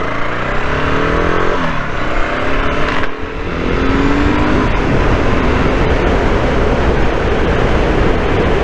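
A BSA Gold Star motorcycle accelerates at around 50 mph, its engine note rising steadily beneath loud, constant wind rush.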